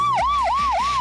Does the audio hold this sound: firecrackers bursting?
no